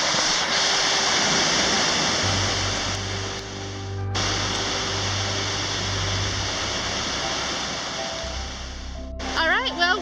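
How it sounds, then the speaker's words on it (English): Upper North Falls at Silver Falls, a steady broadband rush of falling water heard close and loud throughout, with a low rumble in the middle and brief sounds near the end. "This is Upper North Falls."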